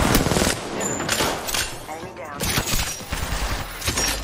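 Rapid automatic gunfire from Apex Legends gameplay, several loud close bursts that break off and start again, with a voice talking over the shooting.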